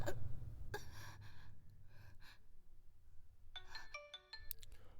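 Telephone ringtone sounding for an incoming call, a few bright electronic tone bursts near the end following gasps and breathy sighs close by.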